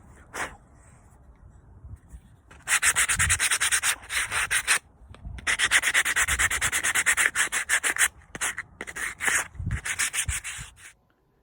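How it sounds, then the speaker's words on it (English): Sandpaper is rubbed by hand over the burned contour of a wooden dresser part in close, rapid back-and-forth strokes, arriving in bursts of scratchy rasping separated by short pauses. "I'm just going to take a piece of sandpaper and I'm going to sand that contour where there's burn marks and such"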